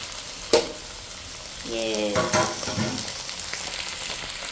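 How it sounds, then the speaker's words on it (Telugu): Washed chicken pieces for biryani go into a pan of hot oil, a sharp clink followed by a louder, rising sizzle that settles into steady close frying with stirring scrapes. "ఇప్పుడు మనం ఆల్రెడీ వాష్ చేసి పెట్టుకున్న చికెన్ని ఇందులోకి యాడ్ చేసేద్దాం"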